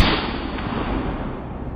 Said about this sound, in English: Gunfire erupted, each shot deliberate, each one clean.